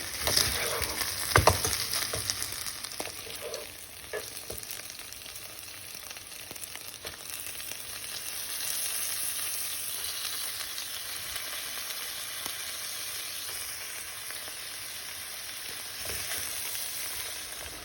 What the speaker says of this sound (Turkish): Burada etleri iyice pişireyim yani.